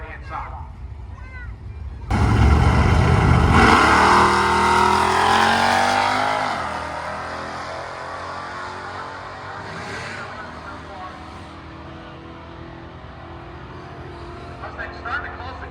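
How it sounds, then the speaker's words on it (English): A Plymouth Duster and an SM95 Mustang launch in a drag race, engines erupting into a loud roaring burst that sweeps away and fades into a distant drone, with a commentator talking over the track noise. "The Duster will line up against the SM95 model Mustang on the right hand side."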